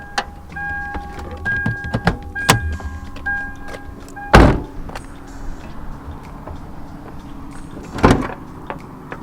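Hood latch on a car with a Toyota 2JZ engine being released, a few sharp clicks and clunks, with one loud metallic thunk near the middle and another later, close up with no talking.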